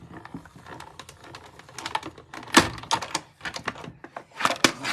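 A card-making die-cutting machine cranks folded paper and a detailed cutting plate through its rollers, producing a series of close, sharp clicking and ratcheting ticks in an uneven rhythm.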